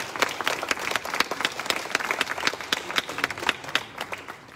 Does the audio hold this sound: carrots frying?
no